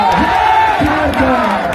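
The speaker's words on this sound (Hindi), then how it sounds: "एक बार जोरदार तालियों से बोले जय झारखंड" A rally crowd at a political speech in Kharsawan, Jharkhand, loudly shouts the slogan "Jai Jharkhand" in unison, a short burst of massed voices with some cheering.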